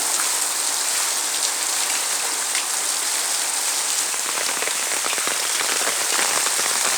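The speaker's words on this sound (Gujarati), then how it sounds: "અતિ ભારે વરસાદ પડી રહ્યો છે" Very heavy, windless rain pouring down in Vejalka village, a dense, loud, unbroken roar of drops drumming on surfaces, close and steady throughout with no voices.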